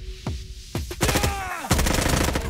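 Rapid gunshots crack close and loud in a Roblox first-person shooter, several sharp reports in quick succession followed by a denser burst of automatic fire.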